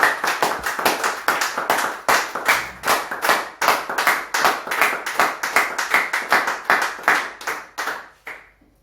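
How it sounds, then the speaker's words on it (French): A church congregation claps in a steady, fast rhythm for several seconds, tapering off at the end; no talking. "Pouvons-nous applaudir pour le nom de Jésus-Christ de Nazareth?"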